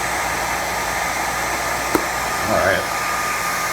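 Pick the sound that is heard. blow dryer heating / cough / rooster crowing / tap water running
blow dryer heating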